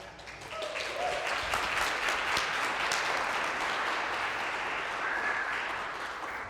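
An audience at the Davie Respect Initiative community celebration breaking into sustained applause, a broad wash of many hands clapping that swells, holds for several seconds and tapers slightly, heard from within the room.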